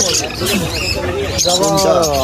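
Caged birds at a pet bird market in Srirampur, including budgerigars kept in breeding pairs, chirping and twittering close by in a busy mix while someone talks over them.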